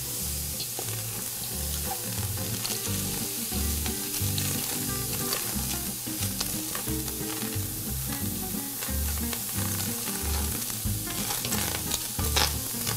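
Vegetables grill in a pan with no fat, giving a constant loud sizzle with irregular crackles and stirring knocks throughout, with no voices.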